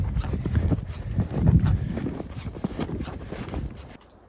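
Horses walk near a cabin property in snowy country, hooves clip-clopping in an uneven, fairly close rhythm that fades out at the end.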